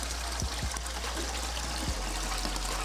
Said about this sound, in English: By using a saver flush, you save a litre of water every time you flush the toilet.